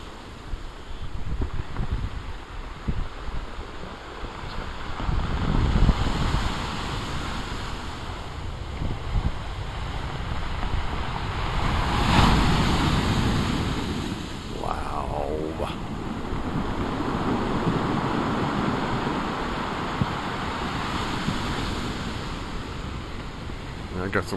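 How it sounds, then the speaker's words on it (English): Large waves breaking along the shore of Narragansett Bay at the URI Bay Campus on a windy winter day, a steady washing roar with gusty wind noise on the microphone and a brief voice partway through. "I got some waves here."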